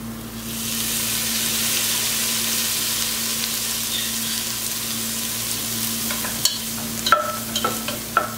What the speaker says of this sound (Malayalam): മഞ്ഞൾപ്പൊടി ഒന്ന് റോസ്റ്റ് ആയി വരുമ്പോഴത്തേക്ക് നമുക്ക് 1 സ്പൂൺ ലെമൺ ജ്യൂസ് കൂടി ചേർത്ത് കൊടുക്കാം.